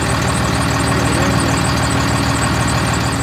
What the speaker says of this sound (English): the engine on the truck is running